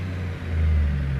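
A Peterbilt 362 truck engine in American Truck Simulator drones with a deep, steady low-pitched rumble that swells slightly as it revs, close and continuous with no talking.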